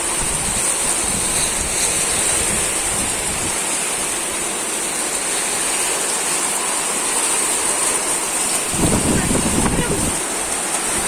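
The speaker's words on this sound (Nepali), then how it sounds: "अब खत्रै पानी पर्थ्यो ल। ओहो डेन्जर पानी पर्थ्यो हावा त ल" Heavy rain with gusting wind in a rural hillside maize field, a dense roaring wash of rainfall and buffeting wind noise that persists throughout, with a stronger gust near the end.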